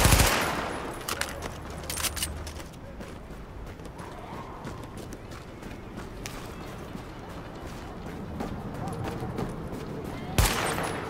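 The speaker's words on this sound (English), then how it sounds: "Is that a gunshot? That was a gunshot." Gunfire in The Division video game crackles steadily as dense bursts under a noisy combat backdrop, with a sharper, louder shot near the end.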